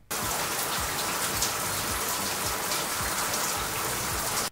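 Steady rain patters continuously on a surface, a dense even hiss of drops with no voices.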